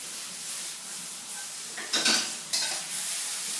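Chicken, noodles and mixed vegetables stir-fried in a pan, giving a steady broadband sizzle with a few louder scraping and clattering stirs near the middle and end, close and with no talking.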